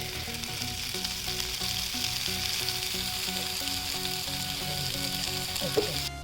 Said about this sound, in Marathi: दुसऱ्या बाजूंवर फ्राय करून घ्यायची आणि आपला कालवा रेडी आवाज बाबा कसं आहे